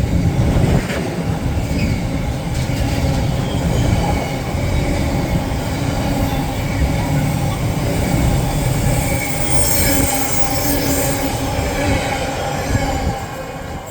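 Two Class 805 trains on a London Euston to Holyhead service pass through Berkhamsted station. Their loud, continuous rumble of wheels on rails carries squealing metallic overtones and fills the whole stretch with no letup.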